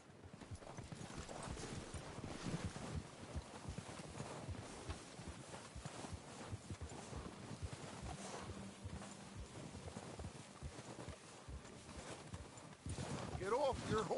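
Horse hooves clip-clop at a walking pace in a video game, a continuous rhythmic clatter with soft thuds, under game dialogue voices and ambient camp noise.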